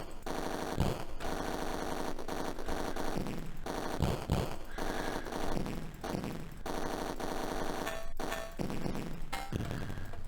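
Rapid in-game gunfire from the Atari ST rail shooter Roller Coaster Rumbler, with loud bursts of repeated shots over continuous game music and noise, broken by short pauses, close and steady.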